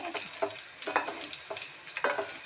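Dried red chillies frying and being stirred in hot oil for a gooseberry pickle, a steady soft sizzle broken by several scraping stir strokes at an even pace, close and moderately quiet with no talking.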